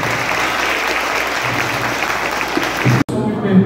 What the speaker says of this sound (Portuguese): Mais palmas para ele.